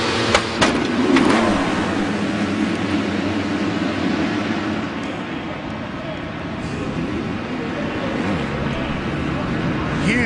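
Supercross Lites motorcycles roar off the starting gate at the Atlanta round of AMA Supercross, a loud dense wall of engine noise that stays sustained throughout, with a commentator's voice over it.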